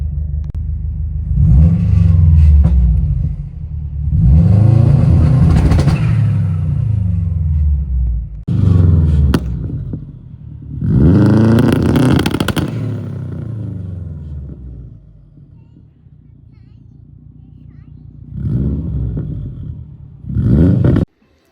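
A Subaru WRX engine revving on launch control in a series of loud bursts, rising and falling with brief gaps and a low rumbling idle between, close and with no talking.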